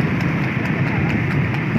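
A horse's hooves clip-clop in a quick, even rhythm of close, steady beats through a short stretch, with voices talking at the same time.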